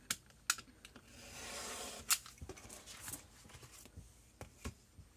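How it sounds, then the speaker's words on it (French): Scissors snip away excess paper while a 3D New Year card is assembled with cutting dies, giving a string of short, close, crisp cuts and rustles with a longer shearing stroke partway through, no talk. "je vais couper le surplus de papier"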